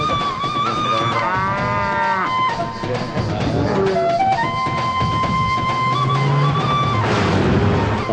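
Village calves and cattle moo in a rural setting, with several drawn-out, wavering calls rising and falling over a dense, busy background.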